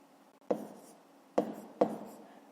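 A pen writes numbers on paper for a fifth-grade subtraction exercise: three short, close scratchy strokes, each starting with a sharp onset and trailing off, with quiet pauses between them.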